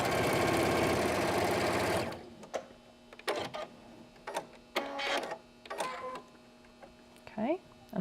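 A sewing machine runs fast and steady for about two seconds, stitching quilt pieces with a quarter-inch seam, then falls silent, leaving soft handling noises and a few brief clicks.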